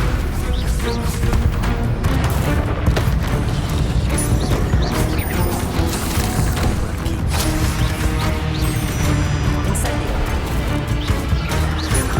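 Repeated Stupefy spell blasts in the Hogwarts Legacy video game, a dense, loud, continuous barrage of magical impacts, crashes and mechanical clatter with no pause between hits.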